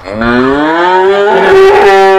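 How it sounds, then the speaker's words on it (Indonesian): A cow in a cattle barn lets out a loud, close, drawn-out moo that rises slightly in pitch and lasts about two seconds, with nothing else heard. "ini kita sudah sampai di kandang sapi"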